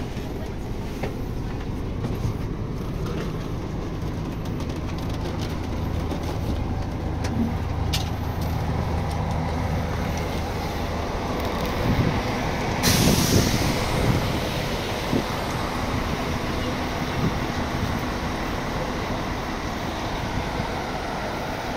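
An airport shuttle bus pulls in to Split airport in Croatia, its engine rumbling steadily from inside the cabin with a brief hiss and shift midway as it brakes, while people talk faintly underneath.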